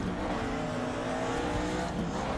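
A damaged two-liter race car engine in Raceroom Racing Experience revs hard near redline, a strained, tortured continuous drone holding steady and loud throughout with no talk.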